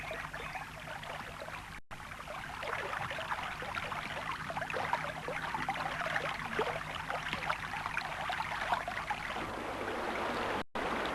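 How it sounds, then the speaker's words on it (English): Steady rushing and splashing of spring water flowing from cliffs in the Kimberley, a continuous broadband wash close by with no voices. "pure spring water flows from the cliffs"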